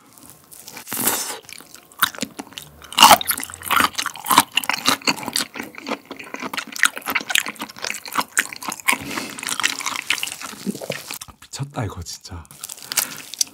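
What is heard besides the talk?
eating raw live black tiger shrimp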